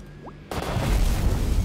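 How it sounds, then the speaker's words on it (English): An explosion bursts in the video game Bopl Battle, a sudden loud crash that flares after a short quiet lead-in and then holds as a dense, roaring blast with no voices. "That was a lot of explosions."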